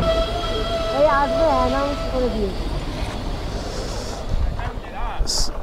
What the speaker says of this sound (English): So our train has arrived and it's entering the station.